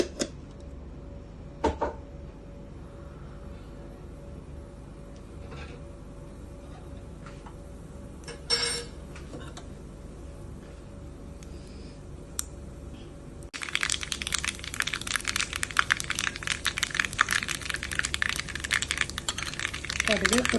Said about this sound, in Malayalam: കടുക് പൊട്ടി കഴിഞ്ഞിട്ടുണ്ട്.